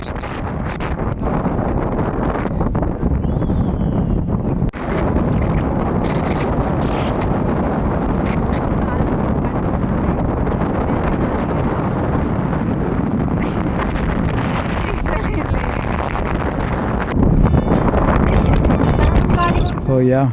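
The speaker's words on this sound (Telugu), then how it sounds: "ఇక్కడ గాలి అయితే విపరీతంగా ఉంది, బండి అయితే ఊగిపోతుంది అనమాట, నిలబడలేకపోతున్నా" Strong wind gusts beside a lake buffet a parked scooter, making a loud, continuous roar of wind against the microphone that barely lets up for the whole stretch.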